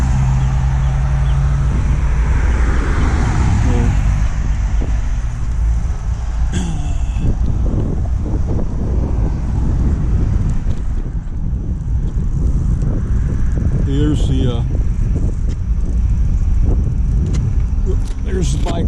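Cars rushing past on a road beside a bike trail crossing, heavy wind noise on the microphone with a few louder passing whooshes and rattles, a voice briefly speaking near the middle.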